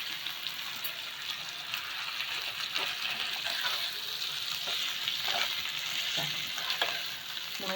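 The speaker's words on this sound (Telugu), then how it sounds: "ఇందులోనే మునగాకు తాలింపులు వేసేద్దాము." Moringa leaves tempering sizzles steadily in a hot pan, a dense, continuous frying hiss with crackles scattered throughout, nearby and with no talk.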